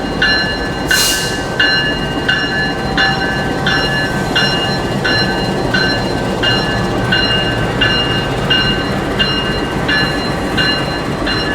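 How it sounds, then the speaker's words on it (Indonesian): A CC206 diesel locomotive of the Ranggajati train shunts in a rail yard, its steady engine drone loud and close, with a brief hiss near the start and a bell ringing in a regular repeating rhythm throughout. "Masuk langsiran lokomotif kereta api Ranggajati."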